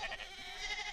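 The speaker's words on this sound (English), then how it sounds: "There's a flock of sheep coming this way." A short, wavering bleat from a sheep in a flock in the video game Fate/Grand Order, heard clearly and alone.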